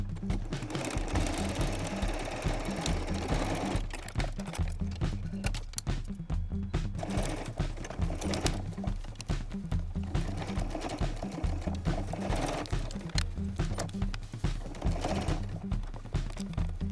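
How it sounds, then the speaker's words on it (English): A sewing machine top-stitches black lace ruffles in place on a face mask, running in a continuous, rapid, close mechanical chatter with small shifts in speed throughout. "Take it to the machine and top stitch in place."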